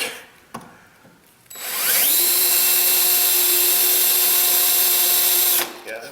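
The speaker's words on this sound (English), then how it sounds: "You can either drill through or push it through" A power drill with a bit bores into material while fitting side steps on a Chevy truck, spinning up and running loud and steady for about four seconds before stopping.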